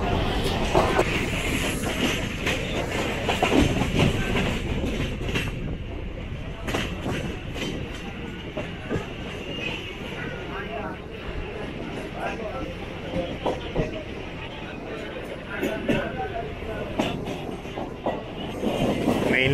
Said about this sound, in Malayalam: അപ്പുറത്തെ കൂടെ ഒരു ചെന്നൈ ബീച്ച് ട്രെയിൻ പോയി.